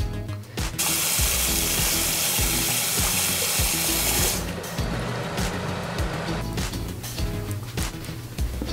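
Running water splashes close by as a coffee and cacao face mask is rinsed off, a dense rush for the first few seconds that then breaks into scattered splashes and hand noises.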